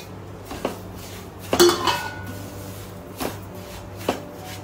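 Roasted food being stirred in ghee in a metal pan, heard as sparse clinks and scrapes of a utensil against the pan: a few sharp taps, one louder clatter, then quieter knocks, close by with a low background hum.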